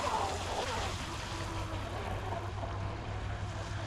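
A Blackjack 24 RC boat running on water with bigger propellers, a continuous buzzing motor whine over splashing water, steady and moderately close.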